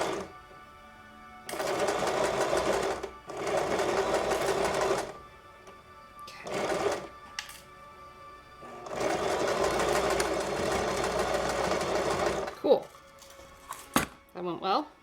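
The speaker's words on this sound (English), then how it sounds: "so little of the time is actually spent with the sewing machine running" A home sewing machine stitching helmet ear savers, running in several bursts of a few seconds each with quiet pauses between, a rapid whirring rattle; near the end there are clicks, handling noises and a brief spoken word.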